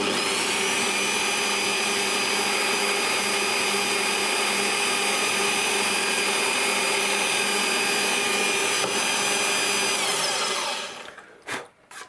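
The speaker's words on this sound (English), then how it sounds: "now I can hopefully drill these holes and be confident that we're not going to go all the way" A small electric drill whines steadily as it bores 2 mm holes through a model aircraft hinge, a constant close high-pitched motor tone that cuts off near the end with a few brief clicks.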